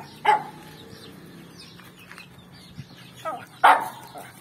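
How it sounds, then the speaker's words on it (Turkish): A farm guard dog at a chicken coop gives two sharp barks a few seconds apart, fairly close, with faint background noise between them. "Havla Yunus'a hadi."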